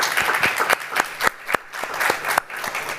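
An audience at a talk event's Q&A session applauds, dense steady clapping from a crowd that keeps going for the full three seconds without any voices.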